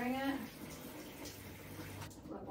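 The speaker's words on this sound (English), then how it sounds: "The water's coming down at the bottom now." Water from a shower pours over a houseplant in its pot and trickles out the bottom, a steady close hiss of running water with a brief voice at the start.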